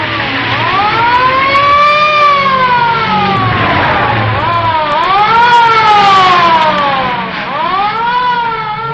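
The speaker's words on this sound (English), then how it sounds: "the police car hadn't come along chasing those speeders" A loud 1940s-era siren wails continuously in rising and falling sweeps, roughly three long cycles, close and dominant with an engine rumble underneath.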